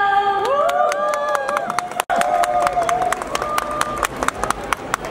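A late-night concert crowd of fans whoops, cheers and claps through the whole stretch, with high shrieks rising and falling over steady applause and talk among the crowd.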